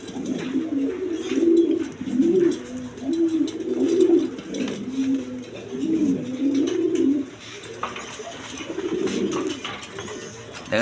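Farm pigeons coo in repeated low, throaty rolling phrases, close and clear, with a soft background murmur.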